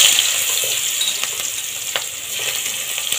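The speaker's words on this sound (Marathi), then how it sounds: "आता याच्यामध्ये कांदा, चिरलेला कांदा आहे बारीक चिरलेला, तो मी अगोदर घालून घेते" Finely chopped onion fries in hot oil for a dhaba-style veg Maratha gravy, giving a loud, dense, continuous hiss with a few small pops and soft clicks, close up and without any talk.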